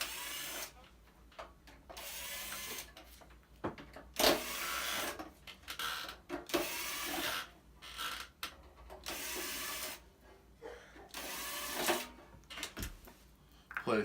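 Screws are being taken out of the casing of an MP series ozone generator, with close, repeated ratcheting clicks and short mechanical bursts separated by brief quieter gaps.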